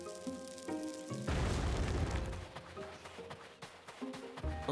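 A bomb detonates in a video game with a sudden deep boom and rumbling blast that swells and fades over a couple of seconds, set against game music and effects.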